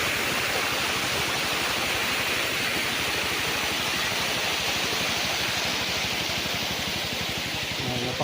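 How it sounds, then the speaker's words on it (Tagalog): Strong, steady rush of clear spring water flowing on a farm lot in Lucban, Quezon, a loud continuous broadband roar like a small cascade, close and unbroken throughout. "Ayan o, ang agos ng tubig ng lakas."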